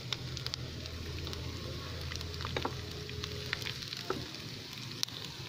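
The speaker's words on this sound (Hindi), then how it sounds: "एक मिनट लहसुन अदरक को भूनते हुए हो गया मुझे" Steady oil sizzle from frying garlic and ginger in a pan, with faint clinks and stirring scrapes over the continuous crackle.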